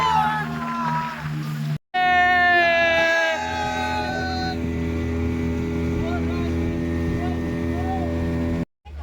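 A motorboat engine drones steadily on Massanjore Dam lake, close and loud through the ride, while excited voices shout and talk over it.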